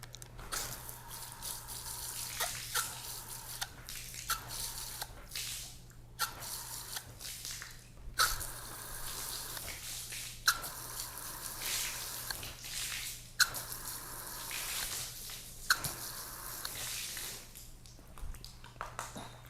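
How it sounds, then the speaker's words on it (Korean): Quick bursts of water from a spray bottle hit umbrella fabric treated with a wet-type water-repellent coating. About a dozen short, soft hissing sprays come in an irregular rhythm, quiet and close, with no talking. "자, 물 한번 뿌려 볼까?"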